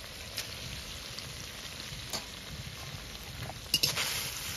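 Potol, potato and soaked Gobindobhog rice fry in a pan with a soft, steady sizzle. A few brief clicks and scrapes of stirring stand out near the end.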